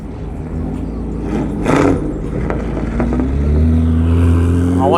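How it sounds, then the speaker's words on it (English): Car engines revving in a rev battle at a European car meet, loud sustained engine roar with rising throttle blips and droning exhaust tones, close by with crowd noise underneath. "Little rev battle."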